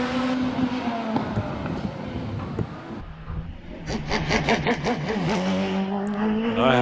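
A GWR Raptor hillclimb race car driven up the Prescott hill gives a loud engine note that revs through several gear changes, dips, then climbs into rapid shifts and rising, pulsing revs.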